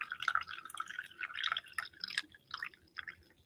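Liquid poured into a density column in a glass container, giving soft, faint splashing and dripping trickles that run steadily for a few seconds with no talking.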